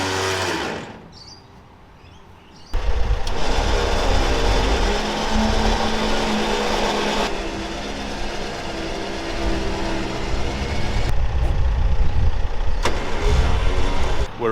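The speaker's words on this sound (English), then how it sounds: "reeling yourself in just with the winch" Runva 9500 lb winch reeling in to pull a vehicle, a loud close electric motor whir with grinding strain that starts abruptly after a quieter pause and runs continuously.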